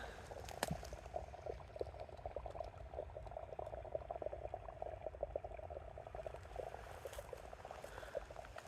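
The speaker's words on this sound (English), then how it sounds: "This water running under the root ball of this tree. A little underground stream." Small underground stream trickling beneath the root ball of a tree along a boardwalk on a hike at Bear Creek Preserve, a faint, steady bubbling and gurgling of water with soft outdoor ambience.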